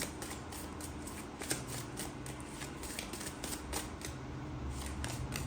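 Tarot cards are shuffled by hand at close range in a quick, regular rhythm of soft papery riffles and slaps, repeating steadily with no talking.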